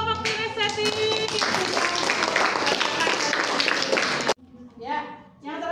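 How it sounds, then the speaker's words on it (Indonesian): A classroom or workshop group applauds a team of participants, dense clapping from several people filling the space steadily for about four seconds before cutting off, followed by a voice speaking. "tepuk tangan untuk kelompok kinestetik"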